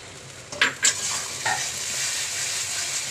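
Cashew, char magaz seed and green chili paste being stirred into a frying masala, with a few sharp scraping strokes early on over a steady sizzle that continues to the end.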